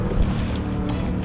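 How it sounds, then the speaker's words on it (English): Sea rollers wash around a Drascombe Lugger sailing boat, a close, heavy rush and slosh of water against the hull mixed with wind buffeting the microphone, loud and continuous. "Look at these rollers"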